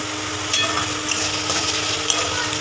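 Spice paste for chicken curry being stir-fried in a pan, a steady broadband sizzle with faint scraping and stirring at moderate level throughout, no voices.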